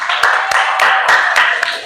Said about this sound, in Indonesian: Kasih tepuk tangan buat kelompok Shula.